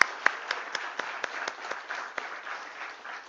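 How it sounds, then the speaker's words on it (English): Sparse, distinct claps ring out for the GNG Electronics team at its IPO listing ceremony, a thin scattering of hands in a quiet room with no talking. "please join me in having a thunderous round of applause for GNG Electronics team on this remarkable achievement"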